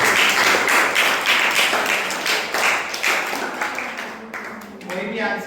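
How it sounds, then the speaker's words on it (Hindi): Hearty applause from a school audience welcoming the principal at an Uttarakhand Divas celebration, a dense wash of clapping with a voice speaking over it, the clapping thinning out toward the end. "एक बार उनके लिए जोरदार तालियां"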